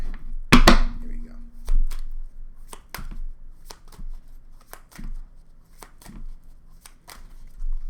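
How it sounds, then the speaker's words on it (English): A deck of tarot cards gets one quick shuffle, a sharp riffle burst at the start followed by scattered soft taps and card-handling clicks, with a voice speaking quietly in between. "One more shuffle."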